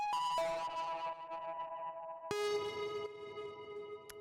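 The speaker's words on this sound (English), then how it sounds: "So the next sound that we have here is this little beep," Two bright synthetic beeps made from a sine wave, each ringing out with a long reverberant, slightly distorted tail; the second one is sharper and steadier.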